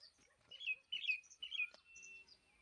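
Bird calls in an orchard with a small mango tree, attributed to an Asian koel: several bright, clear chirping phrases in quick succession, moderately near and alone with no voices.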